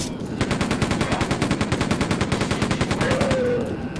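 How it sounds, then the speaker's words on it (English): Chain gun firing in Quake 2, a rapid, steady burst of machine-gun shots lasting several seconds, loud and close with an even rattling rhythm, no talking over it. "I never liked the chain gun because it just spews out all such a crazy amount of ammo."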